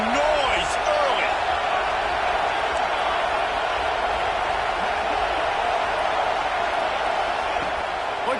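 A football stadium crowd at a Clemson versus Arizona State game keeps up a broad, steady roar with occasional shouts, heard continuously beneath a commentator talking.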